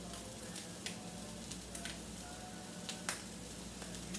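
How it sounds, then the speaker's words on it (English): A pan of sauce simmering on the stove, a steady close sizzle and bubbling hiss with occasional small pops and stirring clicks throughout. "I'm gonna let it simmer."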